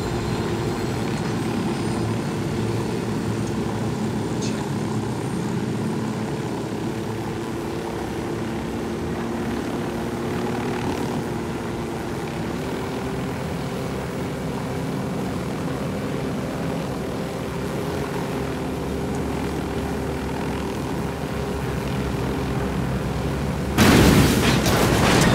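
A helicopter's engine and rotor drone steadily and loudly throughout while it flies in Bolivia, with a brief burst of louder wind-like noise near the end.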